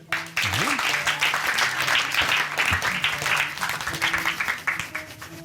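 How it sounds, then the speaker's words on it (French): Steady applause from a crowd, sustained for several seconds at moderate loudness, with some tonal background sounds mixed in. "On peut l'applaudir."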